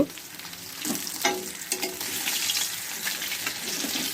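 Pieces of fish fry in oil in a pan, a close steady sizzle broken by a few louder crackles and stirring clatters as they are turned, with no talk.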